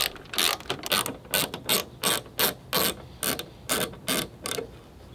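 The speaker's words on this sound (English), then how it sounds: "Remove these two T30s and the headlights come right out." A ratchet clicks in about eleven quick bursts as two T30 headlight bolts come off a Ford Fiesta ST, each burst a crisp, close run of pawl clicks with short pauses in between and no voices.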